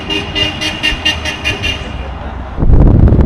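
Many cars honking horns in celebration of a wedding: a fast, rhythmic series of loud toots close by, then a burst of passing traffic roar and rushing wind.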